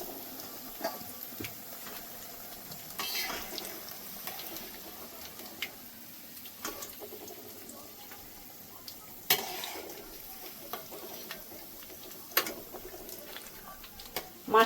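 Crispy fried okra snacks being scooped from hot oil: a quiet, bubbling sizzle runs underneath while a few sharp metal clicks and scrapes of a slotted spoon against the pan stand out at irregular moments.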